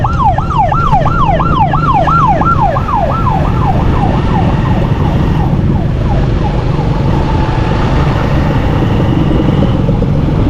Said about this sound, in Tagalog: may ambulansya pa, naipit na sa traffic